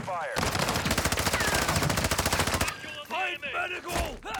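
A long, loud burst of automatic gunfire in Call of Duty DMZ rattles close for a couple of seconds, then cuts off into a voice exclaiming and scattered game sounds.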